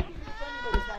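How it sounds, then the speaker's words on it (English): Goats on a Kenyan farm bleat in wavering, nasal calls, fairly close, with a louder bleat near the end. "This is our goats."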